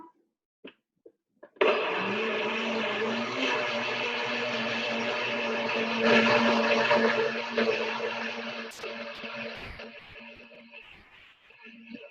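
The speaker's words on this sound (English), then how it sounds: "This will be kind of loud for a second. We're going to give this a good mix now." A blender mixing pancake batter roars on after a few soft clicks, whirring steadily for several seconds before slowing and winding down.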